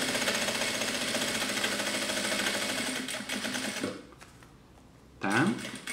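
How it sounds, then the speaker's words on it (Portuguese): A sewing machine topstitching around a curtain zipper runs loud and fast in a continuous stitching rattle, slows and stops near the end, then a short final burst of stitching follows. "Pesponto em toda a volta, só."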